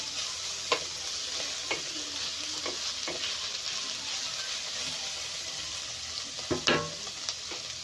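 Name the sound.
cabbage and noodles frying in a pan on high flame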